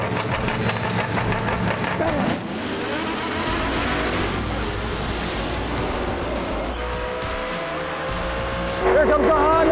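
A Honda Civic drag races down the strip at ZMax Dragway in a four-wide race, engines roaring loud and near with tire noise and a rising pitch at the end, under an announcer's excited commentary.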